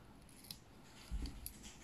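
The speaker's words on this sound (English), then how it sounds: "you can just remove it with scissors" Scissors snipping CDC feather barbs off the stem at a fly-tying bench, a few quiet crisp cuts close by, with one soft thud partway through.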